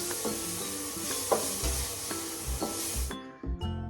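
Bread pulao made with bread pieces and tomato sauce is stirred and fried in a pan, with a bright sizzle under rhythmic scraping strokes that cuts off near the end, leaving a few quieter clinks.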